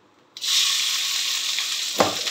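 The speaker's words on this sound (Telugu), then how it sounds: "ఇలా తాలింపులు వేడి చేసుకొని కరివేపాకు వేసుకొని" Curry leaves dropped into hot tempering oil burst into a sudden loud, close sizzle that hisses steadily, then flares again briefly as more goes into the pan.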